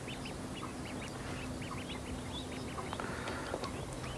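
Duck quacking repeatedly in short nasal calls at a carp lake among lilies, faint and somewhat distant over steady outdoor background noise.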